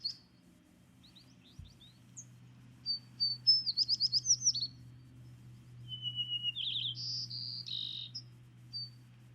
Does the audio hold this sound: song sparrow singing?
yes